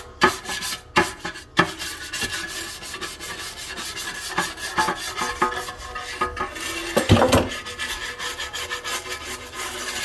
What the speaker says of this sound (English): I am going to use my nylon brush and kind of rub it in